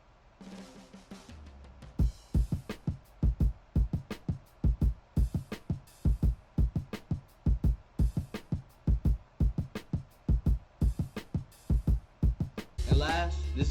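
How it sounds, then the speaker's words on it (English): A hip-hop beat's full drum pattern plays: punchy kicks and snares in a steady groove with hi-hat and open-hat patterns and a drum fill. The hits are loud and close, with no voices, and a denser burst comes at the end. "And all together, the drums sound like this."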